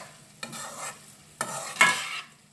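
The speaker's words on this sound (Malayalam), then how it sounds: "ഇനി നന്നായിട്ടിതൊന്ന് മിക്സ് ചെയ്ത് കൊടുക്കാം." Pumpkin and bean erissery is stirred into coconut paste in a pan, three distinct wet scraping strokes with a spoon, each about half a second long, close and clear against a quiet background, with no voices.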